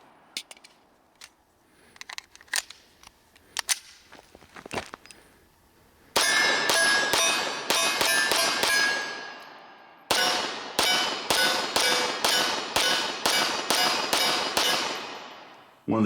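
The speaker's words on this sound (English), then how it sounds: "we're shooting that 6 Hour Elite Performance ammunition. It is the 115 grain full metal jacket" Beretta M9A3 pistol firing 115 grain full metal jacket rounds, a loud sharp string of shots in quick rhythm with a brief pause between two strings, each crack ringing with metallic clang.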